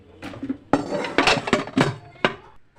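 Cooking pots and utensils are scrubbed and washed, producing loud irregular clattering and metallic clanks with rubbing scrapes between the knocks, close by.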